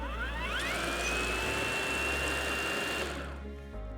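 A Cobra MT40VX cordless multi-tool spins up in turbo mode with a loud, rising motor whine. It holds a steady high pitch for a couple of seconds, then cuts off and winds down, with no talking over it.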